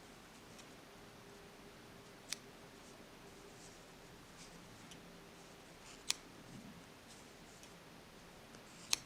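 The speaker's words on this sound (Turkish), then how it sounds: "Arkayı çevirdikten sonra fazla ipleri bir makas yardımıyla kesiyorum." Three sharp, isolated snips spaced a few seconds apart, scissors cutting excess yarn threads from crochet work, over quiet room hiss.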